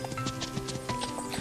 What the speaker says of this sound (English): Good animation on the horses as well. You can feel there's some weight to their cantering.